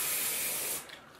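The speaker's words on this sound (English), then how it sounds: "Gonna spray some of that on there." A short, close burst of holding spray misted onto hair gives a steady hiss for under a second, then cuts off abruptly into quiet.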